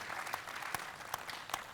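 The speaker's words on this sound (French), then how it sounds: "Des applaudissements à notre jeune start-up du mois." Brief, steady applause from a television studio audience, a soft wash of clapping with a few sharper claps standing out.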